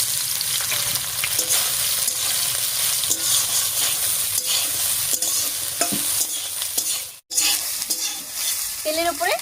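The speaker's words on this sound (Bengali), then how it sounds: "তেলের উপরে সয়াবিনটা দিয়ে নাড়িয়ে নিলাম" Soybean chunks fry in hot mustard oil in a karahi, a dense continuous sizzle broken by scraping stirs, with a momentary drop to near silence before the sizzle resumes.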